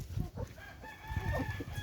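Rhode Island chickens clucking and crowing close by in a farmyard, a quick burst of choppy clucks with a short crow, fairly quiet.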